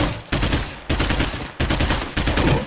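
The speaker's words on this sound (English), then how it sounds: "That's my last shot." Four loud gunshots from the video game State of Decay 2, evenly spaced about half a second to a second apart, each a sharp close blast with a ringing decay, no voices over them.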